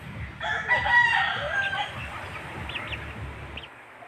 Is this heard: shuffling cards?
no